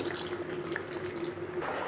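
Tamarind water poured into a pot of boiling sambar, a steady soft liquid splash and bubbling that stays even and close for the whole stretch.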